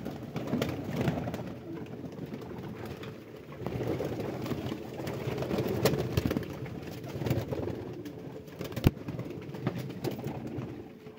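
Pigeons coo near a bird trap during a morning hunt, with soft repeated coos over a low, murmuring outdoor background and no talk in the clip.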